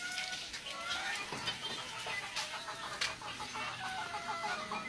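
Caged chickens on a farm cluck steadily in a busy overlapping chorus, with sharper individual calls popping out now and then. No one speaks.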